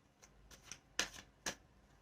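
Tarot cards being shuffled up close, several quiet papery riffles and slaps at irregular intervals, with two sharper bursts near the end and no speech.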